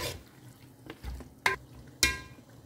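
A spoon stirs green paste into a curry masala for mutton curry in a pan. There are a few distinct scraping strokes over a low, steady sizzle, close and fairly quiet.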